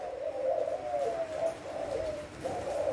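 Thai spotted doves, a red-spotted, black-collared variety, coo steadily in repeated rhythmic phrases over a soft, constant background hiss.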